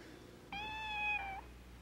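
A kitten gives one clear, high, drawn-out meow, close and alone against a quiet background, lasting just under a second.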